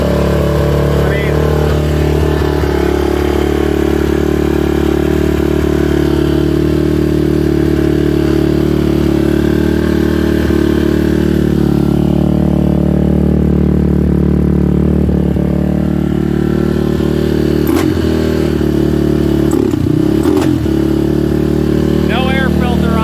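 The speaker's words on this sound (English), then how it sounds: "we got the carburetor back on. This is on choke." A Honda TRX450R ATV engine runs on choke with its carburetor just refitted and no air filter, holding a loud, close, steady idle while a person talks over it.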